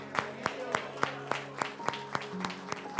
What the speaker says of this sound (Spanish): Vamos a estar de pie y vamos a darle un aplauso a todos ellos.